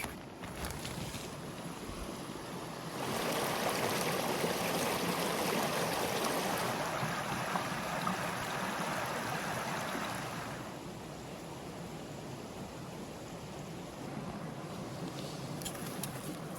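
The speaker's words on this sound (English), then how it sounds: "waking up to the sound of a stream, a river just nearby" Steady broadband rushing of a river flowing close by at a wild campsite in England's Peak District, swelling louder through the middle and easing back, with no talk.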